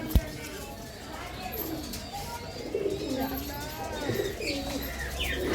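Female pigeons kept for sale coo in soft, low repeated calls alongside a few chirps and bird calls, with talking partly over them throughout.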